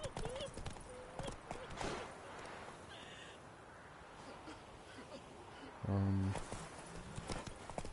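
Horse hooves clip-clop in The Witcher III, a steady rhythm of soft hoofbeats at moderate distance running beneath game music and occasional talk, with a brief loud tonal burst near the end.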